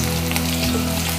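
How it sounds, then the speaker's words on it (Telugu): Green chilies and curry leaves fry in hot oil, making a brief, steady, close sizzle with no voices. "ఇందులోనే మిర్చి, కరివేపాకు కూడా వేసేయండి. మంచిగా నూనెలో వేగితే మంచి టేస్ట్ ఉంటాయి కదా."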